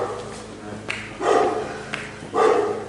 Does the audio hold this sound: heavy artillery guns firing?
no